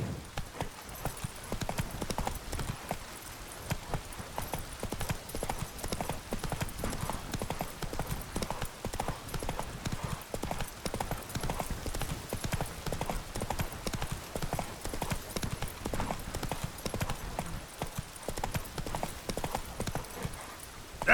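Roach, the horse in The Witcher 3 video game, trots along with a steady, continuous clip-clop of hooves that runs at an even rhythm throughout, fairly close and prominent.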